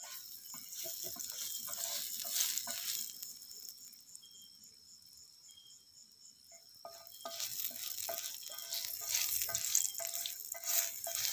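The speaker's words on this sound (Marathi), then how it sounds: "तर तेल कौलात चरचरीत झाली आहेत।" Chicken marinated with oil sizzles and crackles on hot new clay roof tiles outdoors in Konkan, a steady frying hiss that dips quieter midway and then swells back up, close and alone.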